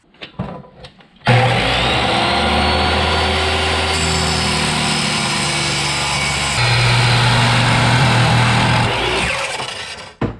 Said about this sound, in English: So we're going to take it over the chop saw. We're just going to cut this off.